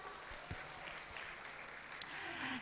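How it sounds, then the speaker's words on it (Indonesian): Applause from an audience at a talk show event, a soft, steady patter of many hands, fairly faint and distant, with a couple of sharper claps standing out. "Mari kita berikan tepuk tangan dulu untuk Ibu Susan"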